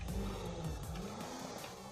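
A 2016 Volkswagen Passat driving in GTA 5 gives a steady, fairly quiet engine drone with low harmonic tones rising and falling through the whole stretch, and no talk over it.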